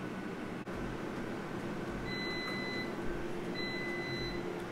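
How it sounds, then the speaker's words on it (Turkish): A Xiaomi air fryer sounds two short electronic alert beeps a second or so apart, signalling that the food should be shaken, faint over a steady fan hum. "Bu duyduğunuz Mi'nin uyarı sesi."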